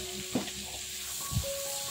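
Spices sizzle steadily in reused chicken-frying oil in a pan with a couple of soft stirring scrapes, close by and without talking.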